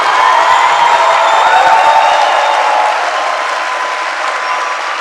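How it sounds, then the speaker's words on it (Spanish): A live book-launch audience applauds the honoree Carlos, loud sustained clapping filling the room, with a few whoops rising over it before it eases slightly toward the end. "Yo quiero que le demos un aplauso a Carlos por la labor que ha hecho"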